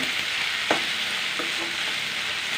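Vegetables fry in oil with turmeric for shavige bath, giving a steady, bright hiss with a couple of soft stirring scrapes. The sizzle is close and constant, with no talking.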